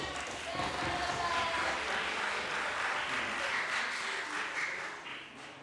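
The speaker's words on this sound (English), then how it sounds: "Clap for him, please." Audience at a children's climate summit applauds as an 11-year-old boy takes the stage, a steady wash of clapping lasting several seconds and easing slightly toward the end, with some voices mixed in.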